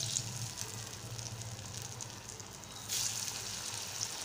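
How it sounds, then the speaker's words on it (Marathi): Colocasia leaf rolls (alu vadi) crackle and sizzle in hot oil in a kadhai, a dense, continuous frying hiss that swells briefly near the end, with no voices. "आता ह्या वड्या छान आपण खरपूस तळून घेणार आहोत"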